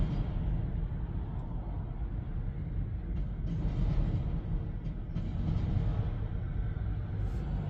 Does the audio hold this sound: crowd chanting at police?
no